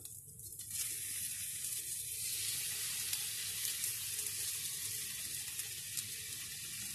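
Eggplant slices frying in a pan give off a dense, even sizzle that starts softly and holds steady and fairly loud throughout, with no talking.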